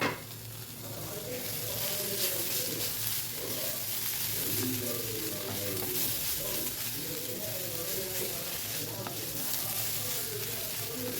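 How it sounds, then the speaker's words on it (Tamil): Half a coconut, grated, fries in oil in a pan for Kerala fish curry, making a continuous, fairly close sizzle throughout, with faint birds cooing in the background. "தேங்காய் அரை மூடி எடுத்துருக்கோங்க இதுலேயே போட்டு ஃப்ரை பண்ணிக்கிறேன்"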